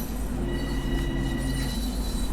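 A New Haven M8 electric train in Train Sim World 2 runs with a steady low rumble, a motor whine and faint wheel squeal, heard close and continuous with no talk.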